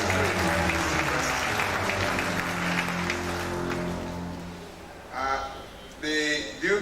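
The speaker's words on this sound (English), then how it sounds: "I want us to give her a round of applause for the good ones." An audience at a university inaugural lecture breaks into loud, sustained applause that thins out over several seconds, then brief bursts of voices and sounds cut in near the end.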